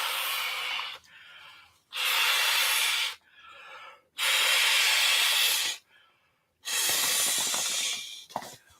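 A Trekology air camping pillow being inflated by mouth, three long, loud, breathy blows with quieter inhales and pauses between them.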